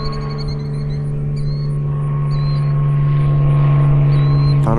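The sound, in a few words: airplane flying overhead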